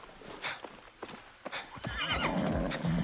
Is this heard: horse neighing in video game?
yes